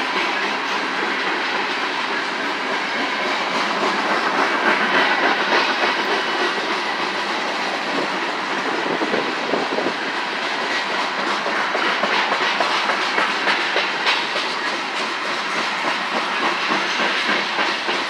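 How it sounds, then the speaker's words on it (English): Two Union Pacific trains run side by side, making a loud continuous rumble with rolling wheel clatter and hiss that holds steady throughout, with no voices. "Got two Union Pacific trains racing."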